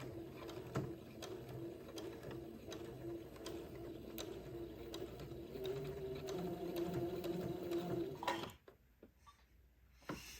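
A sewing machine stitches a pleated Christmas bishop dress with a steady close mechanical whirr and needle ticking for about eight seconds. It then stops, leaving quiet handling sounds.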